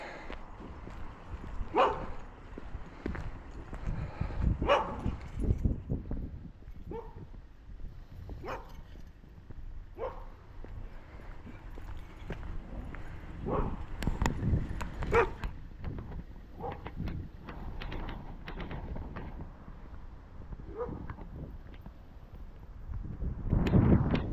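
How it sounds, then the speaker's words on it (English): Several excited dogs barking, yipping and whimpering outdoors on a snowy evening walk, bursts of barks scattered irregularly at varying distances, some near and loud. "What's going on here with these dogs? They're all excited for some reason."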